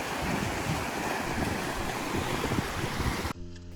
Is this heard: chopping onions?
no